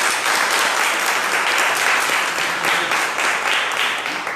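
An event audience applauds loudly and steadily, with dense clapping that stays full and continuous throughout.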